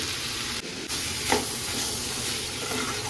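Boiled chickpeas sizzle in a hot pan while being stirred, producing a steady close frying hiss with one brief scrape of the spoon partway through and no talking.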